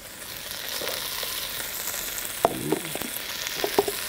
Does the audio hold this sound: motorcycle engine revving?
no